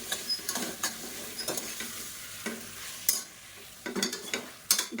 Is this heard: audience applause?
no